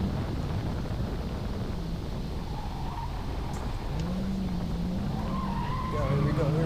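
Ford and Dodge Challenger muscle cars corner hard, their tires skidding and squealing over steady engine and wind roar, with voices talking over the noise.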